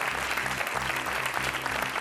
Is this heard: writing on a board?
no